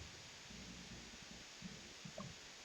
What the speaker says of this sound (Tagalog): Malakas ulan dito eh.